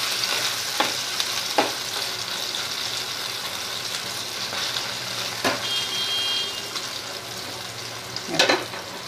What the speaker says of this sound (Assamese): এনেকৈ ভাজিলে খুব মচমচীয়া হয়।